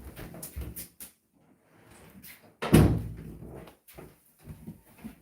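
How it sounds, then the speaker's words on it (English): A door swung shut indoors gives one solid thud about halfway through, louder than the quiet room and the small knocks and shuffles around it. "let me just close the door because I can hear the noise from outside."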